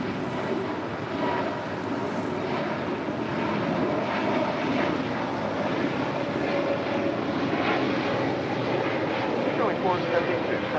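A Boeing 737-800 on flight 1337 from Laredo gives a steady, moderately faint jet engine roar that continues throughout, with voices talking over it.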